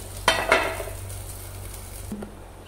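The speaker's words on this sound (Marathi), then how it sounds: "यावर झाकण ठेवून 1-5 मिनिटं याला आपल्याला छान ते भाजून घ्यायचे आहेत." Mixed lentil appe cooking in a covered appe pan, with a couple of clinks of the lid and utensil followed by a steady soft sizzle and a low hum, close and fairly loud.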